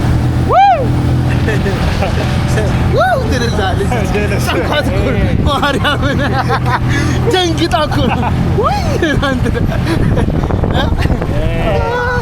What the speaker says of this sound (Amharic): አራት ሰው አንድ ሞተር ላይ